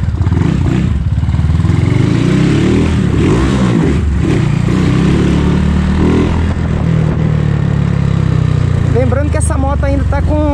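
A 2010 Honda Titan motorcycle with a 190cc kit, running on an alcohol-gasoline mix, runs steadily throughout, its low rumble loud and close, with a few throttle blips and a short rising rev near the end.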